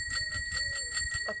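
A bicycle-style bell on a Di Blasi R32 folding tricycle rings in a quick run of about six bright metallic dings, close and fairly loud, with no talking.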